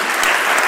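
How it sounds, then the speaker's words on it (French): Strong, steady applause from a crowd at a round-table event on Swiss romand football, honouring Christian Bengli, a thick unbroken wash of clapping. "Vous pouvez l'applaudir pour tous les efforts fournis ces dernières années."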